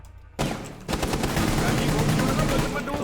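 Rapid automatic gunfire in the video game Rainbow Six Siege, a dense continuous burst of shots after a short lull, loud and close.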